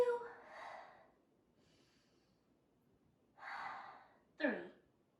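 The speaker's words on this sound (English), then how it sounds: "Everyone take 3 strong and balanced breaths in and breaths out." Deep breaths in and out during a kids yoga class: three slow, audible breaths spaced a couple of seconds apart, close and fairly soft, with the last exhale sharper and more forceful.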